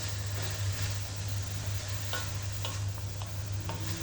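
A spoon stirs sliced sponge gourd (patola) through a pot of corn soup, giving soft scraping and clinking touches over a steady low hum, with no voices.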